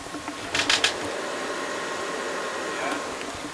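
A home computer's cooling fans whir in a steady, airy hum, broken briefly by a few clicks near the start.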